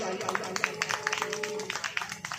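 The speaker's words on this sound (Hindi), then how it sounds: "अब बजाइए ताली।" A church congregation clapping hands in rapid, irregular bursts, many palms at once, moderately close, with a voice continuing over the applause.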